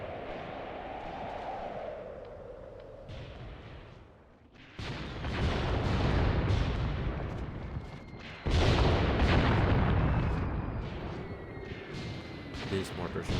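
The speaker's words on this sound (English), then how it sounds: "These mortars are now also engaged." Mortars fire in the World War II strategy game Mius Front, heavy booming blasts and rumbling explosions layered over battlefield noise, growing louder partway through, with a voice talking at times.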